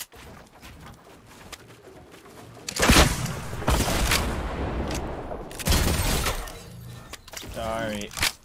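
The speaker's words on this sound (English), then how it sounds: "A shotgun." A shotgun fires in a video game, giving a few loud, crashing blasts spread over several seconds against busy game noise. People talk throughout.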